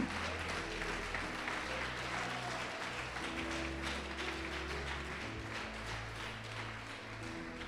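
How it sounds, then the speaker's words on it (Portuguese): A church congregation claps steadily and densely throughout, the applause holding at an even level with faint tonal music underneath. "Pode aplaudir o Senhor Jesus e glorificar."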